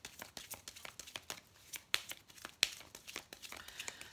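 Oracle cards being shuffled and drawn by hand, a close, quiet run of crinkling paper rustles and snaps, with two sharper flicks standing out among the soft irregular handling.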